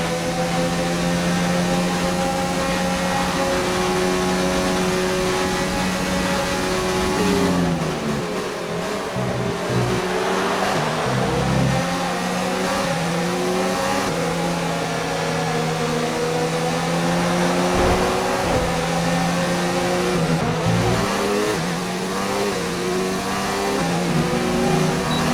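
Race cars in a racing video game roaring steadily with engine whine, pitch sweeping down and climbing again as cars shift and pass, loud and continuous with no speech.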